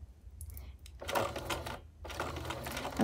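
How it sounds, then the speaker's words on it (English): A domestic sewing machine with the presser foot lowered stitches a quilt-as-you-go mug rug in two short bursts of rapid mechanical clatter, close and moderately loud, with a brief pause between. "I'm going to lower my presser foot and I'm going to begin to sew."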